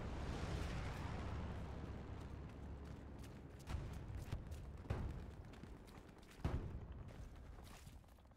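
Artillery shells exploding in the World War II shooter Hell Let Loose: three heavy booms land a second or so apart over a low, continuous battlefield rumble, moderately loud and with no voices.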